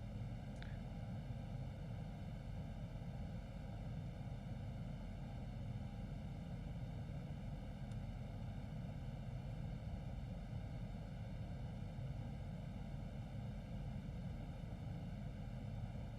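Steady, loud simulated aircraft engine drone during a landing approach in the X-Plane 11 flight simulator, with a military VIP plane approaching Naval Air Station Patuxent River; a constant broadband roar and hum persists throughout with no voices.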